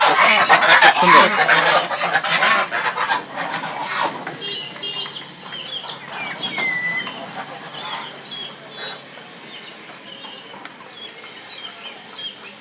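A flock of farm ducks quacks and honks loudly at first, a dense overlapping chorus that gradually thins out and grows quieter, with occasional single calls near the end.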